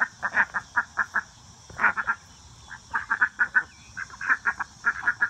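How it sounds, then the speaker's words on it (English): A pet duck quacks in rapid bursts of short, nasal calls, repeated steadily and close by, with no talk over it. "Giant blueberry duck."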